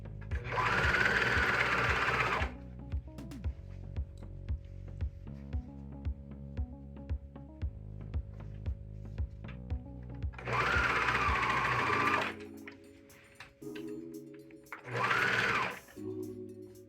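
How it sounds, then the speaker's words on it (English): A serger sewing machine runs bursts of stitching along the seams of a T-shirt, loud and steady, with quieter pauses and handling between runs and a shorter final burst. "use the clips as anchors as you run it through the serger."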